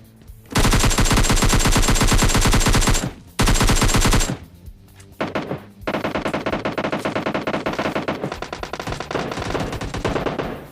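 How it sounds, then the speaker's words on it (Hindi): Loud, sustained bursts of rapid automatic gunfire in PUBG Mobile Lite, a long continuous volley, a brief pause, then more stuttering bursts. "क्या ही कमाल की गन शॉट्स की आवाज आ रही है"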